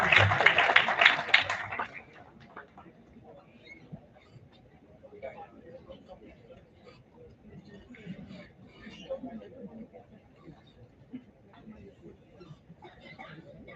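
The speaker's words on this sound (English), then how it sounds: "Let's have a huge round of applause for ma'am." Applause from a conference audience bursts out loud and close for about two seconds, then cuts off abruptly, leaving quiet room murmur and scattered soft talking.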